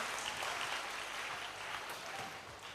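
A congregation at a Hindi-language Christian healing service claps loudly in thanks, producing dense, steady, close applause that fills the whole moment without any talk.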